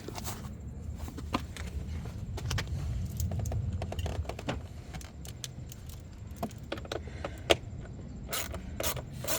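Tight hidden Torx T27 screws being worked loose on a 2013 Mustang, with irregular metallic clicks, scrapes and rattling tool sounds over a low background rumble, close and moderately loud, with no talking.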